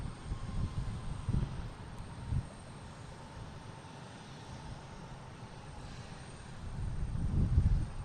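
An Embraer E175 jet at Boston Logan airport gives a low engine roar that swells near the start, dips through the middle and builds louder again toward the end, with some wind buffeting and no voices.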